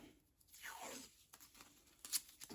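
Packing tape pulled off the roll and torn during restoration of a Macintosh 512Ke computer, a quiet ripping stretch followed by a sharper tearing burst near the end.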